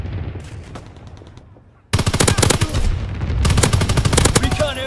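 Anti-aircraft salvo fire in Call of Duty WW2: after a quieter opening, a loud burst of rapid repeated gunshots erupts and continues densely to the end, with game voice lines faintly underneath.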